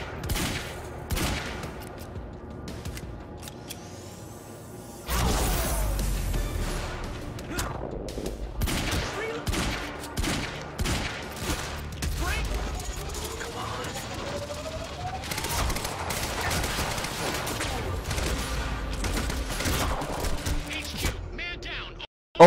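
Video game gunfire in Quantum Break: dense bursts of rapid automatic shots and single cracks continue throughout, with in-game effects layered under it and a player's voice at times.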